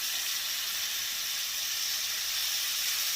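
Chopped tomatoes hitting hot oil in a pan while cooking a South Indian lunch, producing a steady, bright, continuous sizzle and hiss, close and even in level with no talking.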